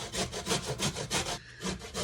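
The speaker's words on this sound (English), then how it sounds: "So you're going to peel them, and then you're going to shred your carrots." Peeled carrots rubbed over the medium holes of a grater, a close rhythmic rasping of about eight quick strokes.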